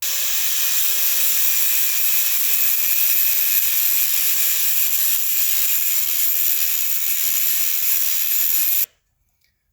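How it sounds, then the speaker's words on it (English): A grinder's cutting wheel slices off a metal bracket on a Yamaha brake conversion kit with a steady, high-pitched whine. It runs loud and unbroken for about nine seconds, then cuts off abruptly into near silence. "I'm going to try to use my cutting wheel, cut this off, and grind this down."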